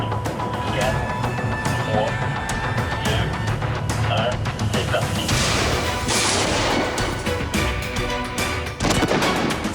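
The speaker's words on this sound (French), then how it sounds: "Les bombes qui sautent juste à côté de nous autres, là, ça mène du train. Puis c'est de l'acier, hein, fait que c'est boum, boum, boum, ça cogne fort." Fireworks shells launch from steel mortars during a pyrotechnic show, a rapid barrage of loud booms and cracks close by that overlap continuously, with crowd noise and voices mixed underneath.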